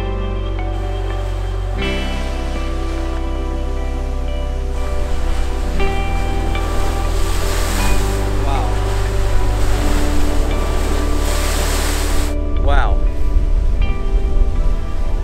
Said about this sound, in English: Maybe we don't have to wait till this afternoon to see the waves, apparently.